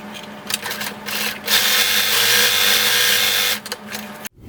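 A sewing machine runs zigzag stitches up and down across overlapped elastic, whirring loudly and close in a few short starts, then one long steady run before stopping.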